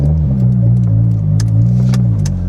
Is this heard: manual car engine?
yes